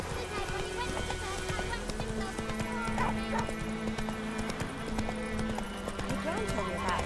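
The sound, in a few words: horse Roach galloping in The Witcher 3 video game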